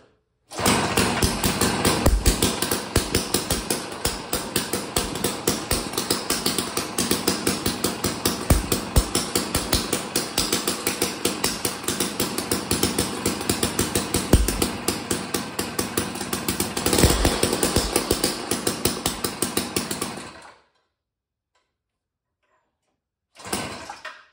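A Tecumseh engine on a Jiffy 31 ice auger, over 20 years old with a cleaned and rebuilt carb, fires up in a garage and runs with a loud rapid rattling putter for about twenty seconds, then cuts out and briefly restarts.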